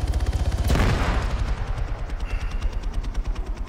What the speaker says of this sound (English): I heard that explosion really distant